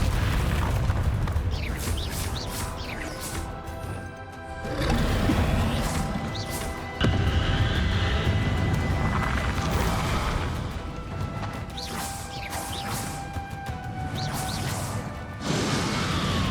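Spell blasts from combat in the Hogwarts Legacy video game, a dense barrage of booming explosions and crashing impacts with swelling bursts and brief dips, loud and continuous over a layered game soundtrack.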